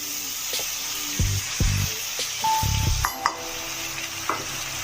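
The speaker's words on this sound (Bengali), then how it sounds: "এখন আমি এই মশলাগুলো সব ঢেলে দিচ্ছি।" Spices are poured into a pan of frying onions and cumin, a close, steady sizzle broken by a few clunks and scrapes of stirring.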